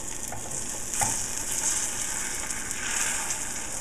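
An omelet's beaten egg frying in a pan gives a steady, close sizzle that crackles without a break and never fades, with no one speaking over it.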